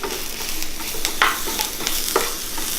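Mushrooms sauté in a pan with a soft, steady sizzle, and a utensil stirs and scrapes through them now and then. The sound is quiet and close, with no voices.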